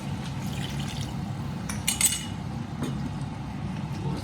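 A short splash of water poured into a pan of prawn curry, with a brief bright burst over a steady low kitchen hum.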